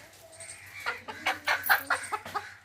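A hen at a Ganganamma village offering ritual in West Godavari, smeared with turmeric, gives a run of about eight rhythmic clucks close by, growing louder toward the middle, with no talk over it.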